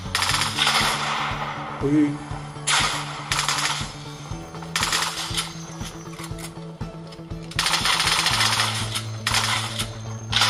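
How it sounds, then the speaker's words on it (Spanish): Gunfire bursts in a Fortnite match played on a Realme 9i phone, including a shotgun blast, with sharp mechanical clatter and rapid shots over a steady game hum, and a man gives a brief exclamation. "me mató con un escopetazo"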